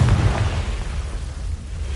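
Confringo explosion spell in the Hogwarts Legacy video game, a deep rumbling boom that bursts loud at once and rolls off over two seconds.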